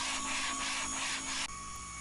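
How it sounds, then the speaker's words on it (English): Steady abrasive rubbing as aircraft landing gear doors are sanded back where hinges were bonded on, a close continuous rasping stroke that stops abruptly, leaving faint background hum. "And here's Devin just sanding back some more of those areas there on the gear doors that had the hinges bonded on"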